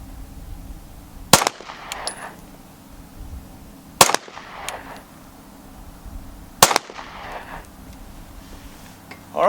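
A Sig P320 X5 pistol fires CCI Blazer brass-case 115 grain FMJ rounds outdoors at a range, three sharp, loud shots spaced a few seconds apart, each trailing off with echo over faint background noise.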